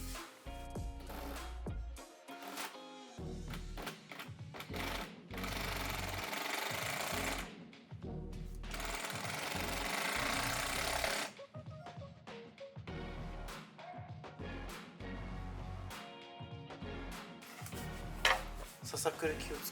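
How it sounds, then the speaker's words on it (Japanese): An impact driver sinks screws into square timbers for an old house's exterior wall, with bursts of loud rattling whirr separated by short pauses, clattering handling noises, and people talking between runs. "下半は下から2センチ上げてビス止めして"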